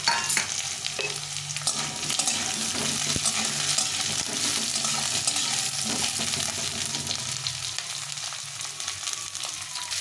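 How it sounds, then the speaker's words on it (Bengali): Potatoes and carrots frying in a pan, a steady close sizzle with occasional stirring scrapes, no talk. "গাজরটা একটু ভেজে নেব।"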